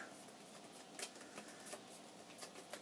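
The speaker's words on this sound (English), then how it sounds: "I have to go back to my rhyme stack and I have to shuffle them up" Quiet, close riffling of playing cards being shuffled, with several quick flutters and soft snaps.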